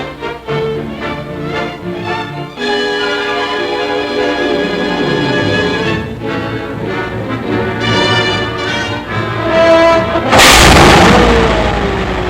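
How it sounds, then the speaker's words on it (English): During 1944 wartime combat, orchestral music plays for most of the stretch before a single loud, close blast of artillery or mortar fire bursts in near the end. "Our attack has been held up by heavy machine gun and mortar fire."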